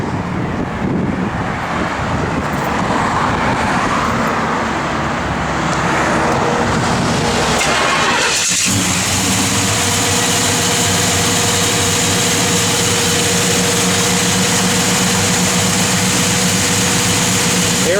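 A 1966 Pontiac Le Mans convertible with a 400 turbo-hydramatic transmission cranks and catches about halfway through, then settles into a steady, close idle with a constant low rumble and a faint whine.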